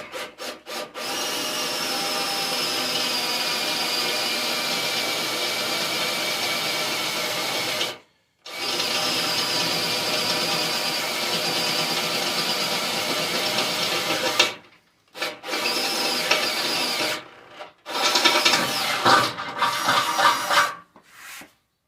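A hand file rasps burrs off the steel mount for a 20-inch light bar on a Bobcat zero-turn mower, long steady back-and-forth strokes up close with a few short pauses, later strokes quicker and choppier.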